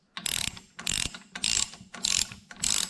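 A ratchet wrench clicks in five quick bursts, close and loud, tightening a small 10 millimeter bolt on a G series transmission shaft.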